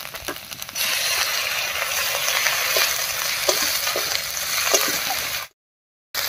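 Onion sizzles in a pan with ginger-garlic paste as it is stirred, a close, steady frying hiss broken by soft scraping strokes, ending abruptly in silence.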